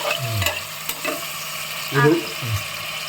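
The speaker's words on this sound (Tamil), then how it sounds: "தக்காளி போட்டு லைட்டாக உப்பு போட்டு, சரியா? இப்போ இது சும்மா வதங்கறதுக்கு போடுறோம்." Tomatoes with salt sauté in a pan for sambar rice, with a soft sizzle under repeated scraping stirs of a spoon, several distinct strokes close by.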